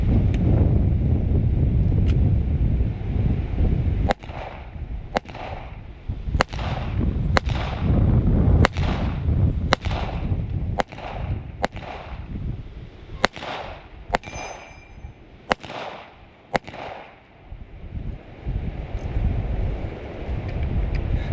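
An H&K USP Tactical pistol fires a string of roughly a dozen sharp, loud shots outdoors, spaced about half a second to a second apart, with wind rumbling across the microphone between reports.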